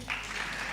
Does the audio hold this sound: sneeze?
no